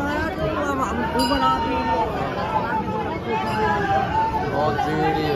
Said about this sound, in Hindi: बहुत भीड़ हो रही